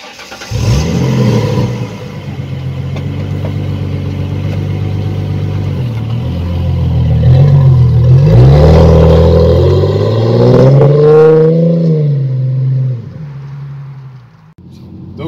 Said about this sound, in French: Tout le monde pensait que c'était un V8 avec le ronronnement qu'elle fait.